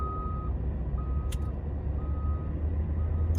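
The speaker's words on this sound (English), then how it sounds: "So we're gonna get this truck out." A truck reversing out onto a snowy road in Mammoth Lakes sounds its backup alarm, evenly spaced beeps about once a second over a loud low engine rumble and wind.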